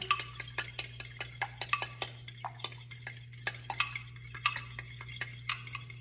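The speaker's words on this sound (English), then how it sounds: "Go ahead and whisk these up so we get them as nice and fluffy as we can." Four eggs with salt being whisked in a bowl, rapid irregular clinks and taps of the whisk against the sides over a low steady hum, close and clear, with no talking.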